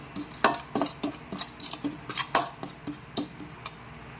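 A spoon scrapes and clinks around a bowl of dissolving sugar in a rhythmic series of sharp taps, close and fairly quiet, with no voices.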